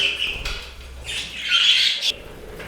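Pet budgerigars and finches in a home bird room let out a loud, harsh squawk with scattered chirps, close by, alongside brief fluttering.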